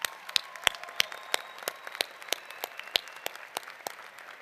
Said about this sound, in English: Let's applaud our faculty one more time.